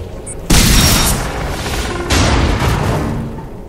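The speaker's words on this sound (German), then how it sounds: "Ich werfe eine Sprengladung, aber ihr müsst drauf schießen, damit sie hochgeht." Two loud, booming blasts about a second and a half apart, each a sharp burst that rumbles and fades: an explosive charge detonating when shot in the video game Enslaved: Odyssey to the West.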